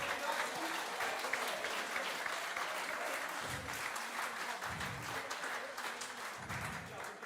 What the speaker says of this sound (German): Und dort stellvertretend einen großen Applaus